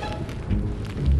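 Hailstorm with hail and rain pouring down, a steady dense wash of falling drops and hard pelting with low rumbling swells, continuous and fairly loud throughout.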